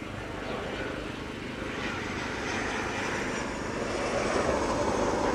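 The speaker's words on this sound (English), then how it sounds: "it's safely touching down into East Midlands" A fixed-wing airplane landing at East Midlands Airport on a windy day, its engine roar a steady broadband rush that grows slightly louder toward touchdown, heard from a distance.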